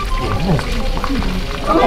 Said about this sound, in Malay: biar aku goreng